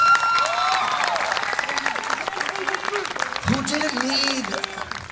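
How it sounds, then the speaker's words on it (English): A commencement audience breaks into applause, clapping that rises quickly and stays steady for several seconds, with a voice speaking over it. "Can we give them a round of applause, please?"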